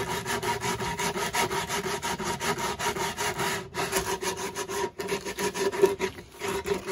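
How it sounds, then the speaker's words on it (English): Steady back-and-forth rasping of sandpaper on the edges of reclaimed lumber, rhythmic strokes repeating close up with a couple of brief pauses. "So I'm getting in the habit of really sanding down the edges"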